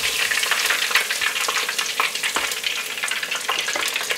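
Gluten-free beer-battered fish sizzles in hot oil, a close, dense and continuous frying crackle with fine popping bubbles, steady throughout and with no voices.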